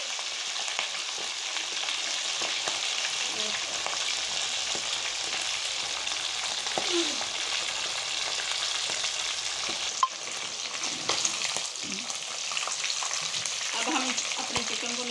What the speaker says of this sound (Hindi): अब इसे अच्छी तरह से हम करेंगे फ्राई।